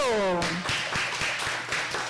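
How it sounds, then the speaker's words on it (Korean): Children clap at a Sunday worship service for a church children's department. A short burst of scattered, uneven claps follows a fading sung or spoken tone and continues for under two seconds. "자, 박수"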